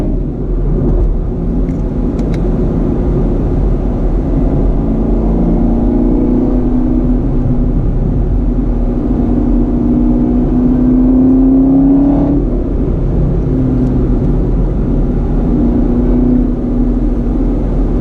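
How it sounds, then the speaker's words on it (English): A 2019 Chevrolet Camaro ZL1's pushrod V8 rumbles steadily in the cabin, its deep drone rising and falling with the throttle, with no speech. "Remember, this is a pushrod V8."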